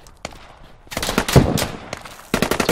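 Gunfire in the military shooter game Squad, a few scattered shots at first, then a loud sustained burst of automatic fire followed by another rapid volley near the end.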